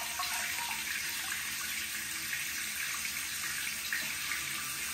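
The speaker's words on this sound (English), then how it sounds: "And this is a full flush." Water keeps rushing steadily through an EPLO EP-16 smart toilet bowl during a full flush, a constant, fairly quiet close-up wash with no voices.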